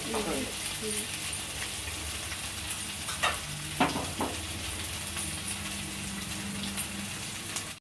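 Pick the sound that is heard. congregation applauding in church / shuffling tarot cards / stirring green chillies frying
stirring green chillies frying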